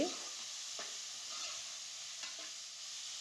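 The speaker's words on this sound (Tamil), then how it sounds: "தக்காளியும் இதோட போட்டு நல்லா வதக்கிக்கலாம்" Tomatoes and vegetables sautéing in a pan for a dried anchovy curry, a soft steady sizzle with a few light stirring scrapes, quiet and close, no talking.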